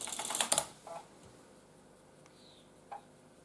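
Quick clatter of keys on a MEGA65 retro computer keyboard, a short burst of close typing followed by near silence with a couple of faint clicks.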